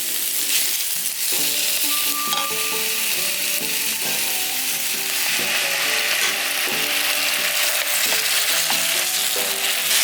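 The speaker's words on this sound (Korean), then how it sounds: "같이 볶아 자꾸 터진다" Dried zucchini and eggplant namul stir-fried with sesame oil in a pan, a steady loud sizzle with constant scraping and clinking of a utensil stirring throughout, no talking.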